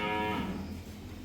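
Limousin cattle moo loudly and close by while being loaded for shipment, one long drawn-out call that fades over about a second, with farm background noise and no talk.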